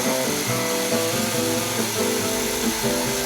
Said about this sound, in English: Now I'm going to demonstrate using the jigsaw.